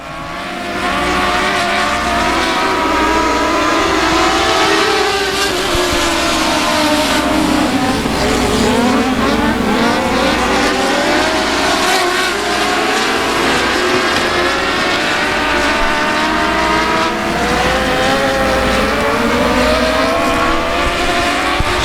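Race cars circling South Texas Speedway produce a loud, continuous engine roar with rising and falling swells as the pack passes, with no clear talk over it.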